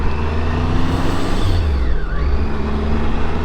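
A motorcycle engine rises and falls in revs after a missed gear shift on a road ride, with a loud, steady drone and wind rush close to the microphone and no voices.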